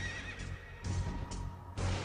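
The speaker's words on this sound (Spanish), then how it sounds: "Y vi aparecer un caballo pajizo" A horse neighs in a long, wavering whinny, close and fairly loud, with low rumbling and soft hoof sounds underneath.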